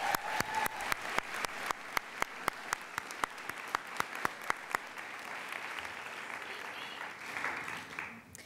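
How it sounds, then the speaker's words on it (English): Sustained round of applause from a commencement audience at the 2017 Goldman School of Public Policy graduation, with a few loud, distinct claps up front over dense steady clapping that gradually thins and fades. "Please join me in a round of applause for these folks."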